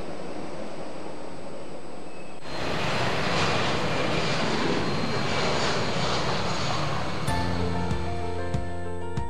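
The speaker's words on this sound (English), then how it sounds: "They take off on schedule." A Vanilla Air passenger airplane taking off, starting from quiet background before a loud engine roar swells in and holds steady, then fading as sharper tones and a rising whine take over near the end; no talking.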